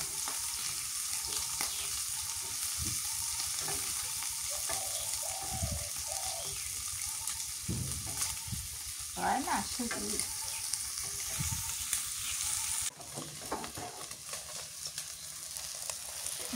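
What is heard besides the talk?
eggs frying and being stirred in a pan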